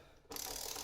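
A torque wrench set to 40 foot-pounds clicks while a frame slider is tightened on a 2021 Yamaha MT-07 motorcycle. A quiet lead-in gives way to one sudden sharp click that is followed by steady mechanical noise.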